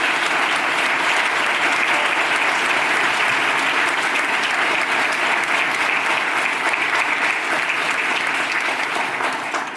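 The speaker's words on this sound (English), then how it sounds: "Can we give Jeff a round of applause?" A keynote audience at an organic pioneer awards ceremony keeps up loud, sustained applause, a dense even wash of clapping that barely dips over ten seconds.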